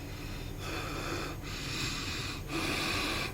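A voice imitates snoring-like throat breathing during sleep, with three rough, wheezy breaths in a steady rhythm, close and fairly loud, with no other talk.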